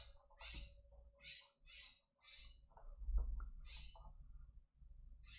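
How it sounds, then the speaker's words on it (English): An unidentified bird gives a series of high, breathy squawking calls in quick irregular bursts, fairly close, over a low background rumble. "What even is this bird? What kind of noises is it making?"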